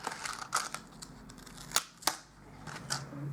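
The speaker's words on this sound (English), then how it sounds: "I'm going to cut out with that die." Card stock being cut with a Framelits die for a flower bunch in card making, heard as a few sharp, close clicks and crisp snaps spaced irregularly over a quiet background.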